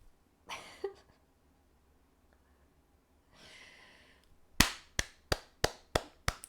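A short burst of hand claps, then a run of six sharp, evenly spaced slaps ringing out loud and close, like a few people clapping during a blitz chess game.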